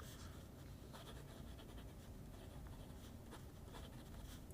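Fine-nib fountain pen scratching steadily across paper, faint and close, with soft repeated strokes and light rasping texture.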